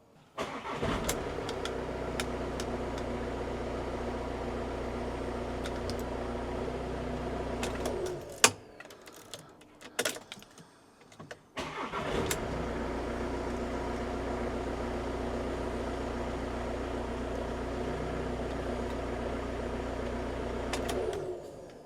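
A VW Transporter van's engine cranks and catches, idles steadily, cuts out briefly, then restarts and runs on at a close, even idle with a few light revs, no talking over it.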